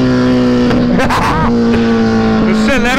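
A Kawasaki Z1000 motorcycle accelerates hard, its loud, close engine note climbing in pitch in two surges.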